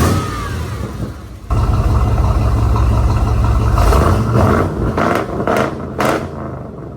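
A car engine idles and revs after an exhaust leak repair, a steady mid-pitched rumble stepping up in loudness partway through, with a few sharp clanks near the end.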